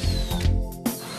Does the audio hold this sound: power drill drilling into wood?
yes